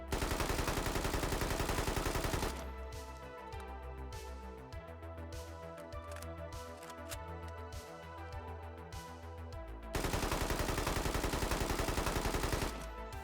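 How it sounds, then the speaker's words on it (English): A Malyuk rifle fires full auto in the military shooter Squad, in two loud, rapid bursts of close gunfire separated by a quieter stretch of faint rhythmic shots. "Now full auto."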